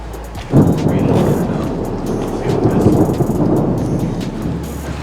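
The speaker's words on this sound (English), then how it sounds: "So it's starting to rain now" Rain begins falling on a Minnesota lake, a broad rushing patter that swells after a low thump and keeps on steadily, loud and close with some wind rumble underneath.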